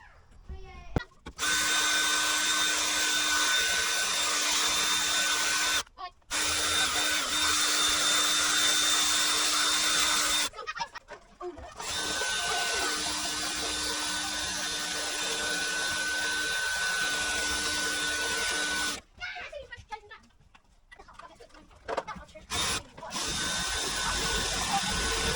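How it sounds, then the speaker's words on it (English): A power drill runs in long sustained bursts while drilling out a rivet on a Ford Mondeo ST220 chassis, with short pauses between runs. The whine is loud and close. "Let's see if I can find a drill bit for this."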